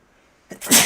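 A single sudden sneeze, loud and close, a short sharp intake followed by an explosive burst after a moment of quiet.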